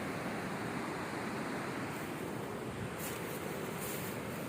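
Swollen river running high after overflowing its banks near an oil palm plantation, a steady loud rushing wash of water with wind noise on the microphone, no voices.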